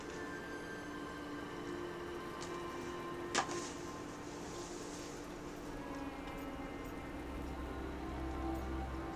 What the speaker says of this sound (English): Drip rain, not mist rain.